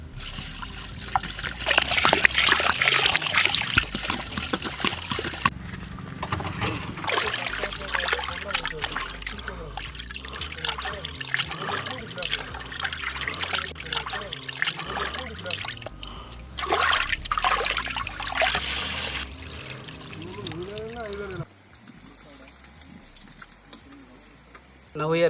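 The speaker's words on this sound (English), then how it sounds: "Now washing fish." Running water trickles and splashes as fish are washed by hand for a fish fry, a continuous close dribble with occasional louder gushes, while voices talk over it throughout.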